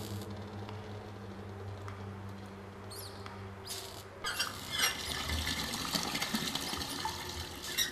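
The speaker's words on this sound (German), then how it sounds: "Alright, tap's working." A video game sink tap turns on and water runs, a soft broadband rush starting partway through after a quiet stretch with faint small clicks.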